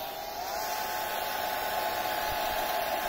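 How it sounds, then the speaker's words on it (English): An old, crumpled hair dryer running on max heat warms a Ford Fiesta ST180 spoiler in freezing winter air, a steady, close, whirring blow that holds constant throughout without voices. "got a hairdryer, old crumpled up hairdryer. Gonna pop it on max heat."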